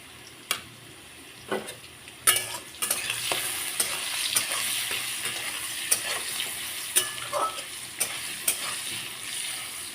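Potatoes fry in oil seasoned with salt and turmeric, a steady close sizzle broken by sharp scraping stirs and occasional utensil clicks, loud throughout with no voices.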